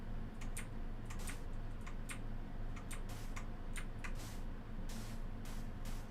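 Sharp, scattered clicks from an obnoxiously loud computer keyboard during a Minecraft session, irregular taps over a constant low hum, no talking.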